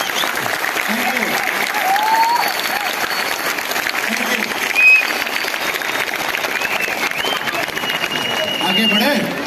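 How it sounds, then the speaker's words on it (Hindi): A large audience rises and claps loudly at a product training meeting, with steady applause filling the full stretch and a few voices and cheers mixed in. "खड़े होके एक बार जोरदार ताली बजाओ"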